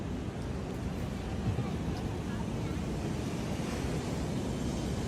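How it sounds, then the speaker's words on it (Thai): Strong sea waves washing onto a beach beside a seaside hotel in Thailand, a continuous broadband roar of surf mixed with wind buffeting the microphone, steady and fairly loud throughout. "คลื่นแรงไปหน่อยก็คือ จะลงเล่นน้ำไม่ได้นะคะ"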